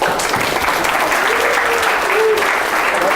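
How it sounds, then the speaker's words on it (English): Applause at a bar mitzvah ceremony, a continuous loud wash of many hands clapping close by, with a faint voice underneath. "You can applaud if you want."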